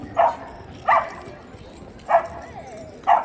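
Dogs bark at a dog training demonstration during an association fair, four distinct sharp barks spaced about a second apart, fairly close, over a murmur of background activity.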